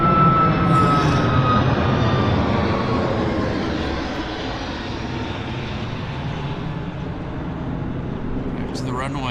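A Boeing 737 Max jet takes off at an airport, its broad engine roar loud and steady before easing slightly as it climbs away, with a person talking over it.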